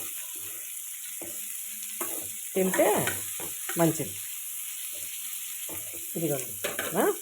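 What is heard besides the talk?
tamarind leaves and dried fish frying in oil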